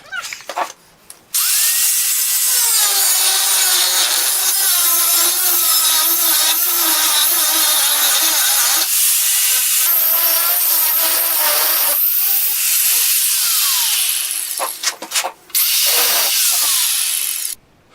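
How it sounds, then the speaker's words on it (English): A power saw cuts through MDF board in a loud, continuous, grinding whine that runs almost nonstop, wavering in pitch, before cutting out near the end. "I'm going to be cutting on this piece of MDF"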